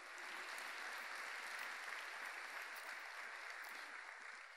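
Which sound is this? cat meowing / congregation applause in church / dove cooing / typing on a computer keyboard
congregation applause in church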